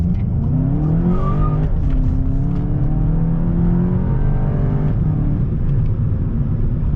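A car taken hard through a corner at full throttle in Sport mode with traction and stability control switched off, engine roaring loud and steady with rising tones and tire squeal throughout.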